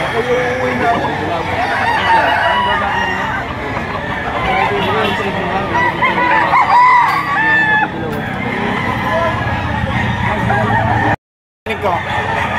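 A gamecock at a rooster farm in Lipa, Batangas crows amid a busy outdoor background of other fowl clucking, with people talking nearby and a steady hum of surrounding noise throughout.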